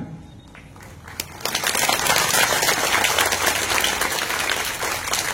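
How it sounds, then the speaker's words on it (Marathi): Audience applause at an education speech event in a Marathi-speaking gathering, sparse claps swelling into loud, sustained clapping from a large crowd that continues to the end. "नुसतं टाळ्या वाजून चालणार नाही."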